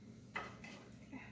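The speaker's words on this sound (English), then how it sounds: "since this is a glass palette, I'm scraping off this old paint" A few short scraping strokes of old paint being scraped off a glass palette, close and fairly quiet, with brief gritty bursts separated by pauses.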